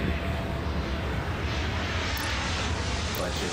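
A jet airliner taking off in the airport game Airport Madness, a steady broad engine roar held at even loudness throughout.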